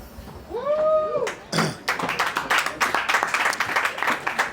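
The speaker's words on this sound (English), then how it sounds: "Round of applause for you guys." An audience at a live homecoming podcast show bursts into applause, with dense, lively clapping that fills the room after a short whoop and a thump, going on steadily to the end.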